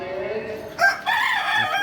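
Pakistani chickens kept in a netted rooftop pen; a rooster crows loudly and close by in one drawn-out call over a steady background hum, with no talking.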